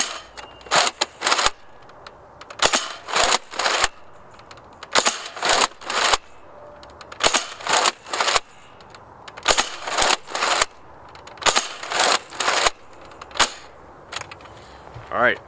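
A Nerf Mega Centurion toy blaster fires darts in repeated bursts of sharp, snappy pops, each group of several quick shots separated by brief pauses, close and clear with no talk over it.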